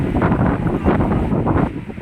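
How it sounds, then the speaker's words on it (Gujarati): Strong wind buffeting outdoors, a loud, continuous rumbling roar with gusty surges and heavy microphone wind noise, no talking over it. "કેવો પવન છે?"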